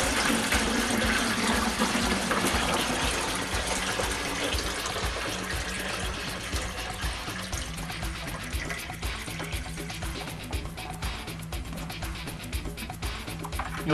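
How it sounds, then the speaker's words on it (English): Water from a bucket is poured steadily into a flood demonstration model, filling it toward a marked water level; a loud, continuous gushing and splashing pour runs for the whole stretch, easing slightly in strength toward the end. "We'll take a bucket, filling the model up to the water level sticker"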